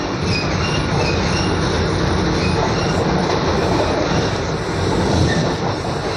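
Steady rumbling inside an air-conditioned train carriage in motion, with continuous low wheel and track noise and a faint high squeal running throughout.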